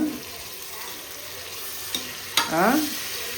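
Tomatoes and onions frying for a village-style country chicken biryani, a soft steady sizzle with scraping stirs, a sharp clatter near the end followed by a brief louder burst.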